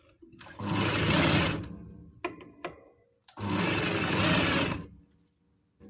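An electric sewing machine stitches extra fabric onto a frock in two sustained whirring runs, close and steady, separated by a short pause filled with a few clicks and taps of handling.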